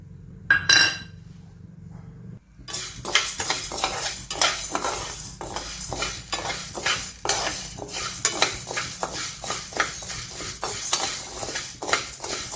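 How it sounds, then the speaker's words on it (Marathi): Dry sago pearls heated in a pan and stirred steadily with a metal spoon, a close rhythm of scraping clinks and the patter of beads, after a brief quiet start. "हा शाबू आपण आता हलकासा गरम करणार आहोत"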